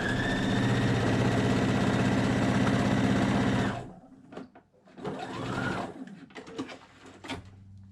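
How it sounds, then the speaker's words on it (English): A sewing machine runs steadily and loud for several seconds while backstitching fabric, then stops abruptly, followed by softer scattered clicks and handling noises close by. "Now my fabric's going to push towards me, and it's going to lock those stitches together so that they don't come apart."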